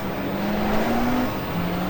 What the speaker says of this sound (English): It's easy to over-rev the engine, which is what we did.